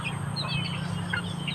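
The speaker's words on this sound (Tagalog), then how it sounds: "Ito na lang yung natira sa ating manok mga inday." Small backyard chickens cluck and call in short, scattered bursts close by, over a steady low hum, with no talking.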